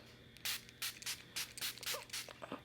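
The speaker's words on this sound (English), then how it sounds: "spray is a little aggressive" Several short hissing bursts of facial mist sprayed from an aluminum bottle, close and fairly loud, spaced irregularly with brief pauses between them.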